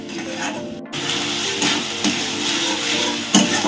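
Gandal (Paederia foetida) leaves being stir-fried in a pan, with a steady close sizzle and repeated scraping and rubbing of a spatula against the pan, continuous and fairly loud, no voices.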